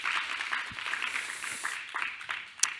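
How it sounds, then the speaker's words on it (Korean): An audience at a church youth Bible study applauds, a dense, fairly quiet patter of many hands clapping together that continues steadily for a few seconds. "박수 한번 칠까요?"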